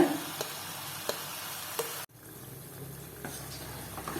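Peanut and wheat halwa mixture being stirred in ghee in a pan, a soft continuous sizzle with occasional scraping strokes, a brief drop in level midway, no talk.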